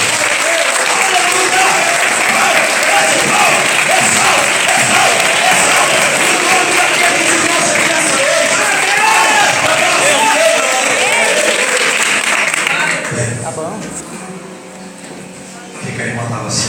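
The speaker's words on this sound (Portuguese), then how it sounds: "Bate palmas para ele." A Pentecostal church congregation bursts into loud, sustained applause with cheering and shouts, a dense crowd roar lasting about thirteen seconds before fading as talking takes over.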